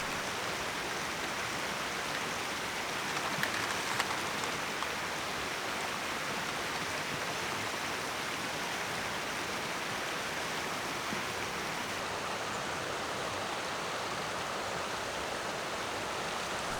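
Steady broadband rush of rain falling beside a mountain stream with waterfalls in trout country, a constant even hiss with no breaks or voices, moderately loud and close.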